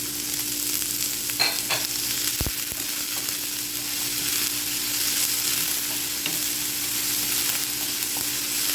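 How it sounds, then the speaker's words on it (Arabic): Onions being stirred and lightly sautéed in a pan make a continuous close sizzle with scraping stirs and one sharp clack from the utensil, with no talk throughout. "برضو البصل هتبدله بس يعني يدبل، ما احنا ايه هنحمره ولا هنسويه كامل، بس يدبل"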